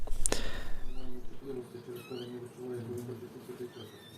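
A cat with a spinal injury meows at a veterinary clinic, giving several plaintive, drawn-out cries close to the microphone, while people talk nearby.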